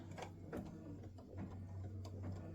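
A home embroidery machine stitches a red rose design, giving a steady mechanical whir with a rapid ticking needle rhythm, close and continuous throughout.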